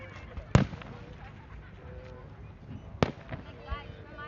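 Canada Day fireworks burst over Downsview Park in Toronto, two sharp booming cracks a few seconds apart with crackling between them, heard from some distance while a crowd murmurs and people talk nearby.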